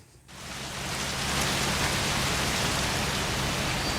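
Rain falls in a sudden rush, a dense hissing downpour that swells in after a brief quiet start and then holds steady and fairly loud, with no voices over it.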